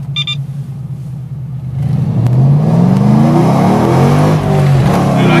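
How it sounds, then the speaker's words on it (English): A Ford Mustang with a fresh exhaust revs off-road, the engine rumbling low at first then climbing into loud, rising roars with repeated throttle sweeps close to the microphone. "Here's a good test run of the Stang with its fresh breathing engine."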